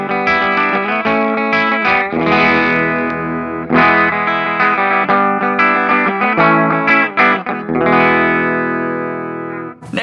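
Electric guitar played through a Pettyjohn Electronics Chime preamp/overdrive pedal, sustained overdriven chords with a jangly, mid-heavy tone ringing loud and close, a few strums and a brief dropout near the end.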